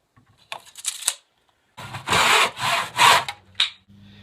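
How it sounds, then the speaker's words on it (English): Hand saw cutting through a wooden board, a few short strokes first, then longer rasping strokes in steady rhythm, close and fairly loud with brief pauses between. "Now I'm going to cut this off"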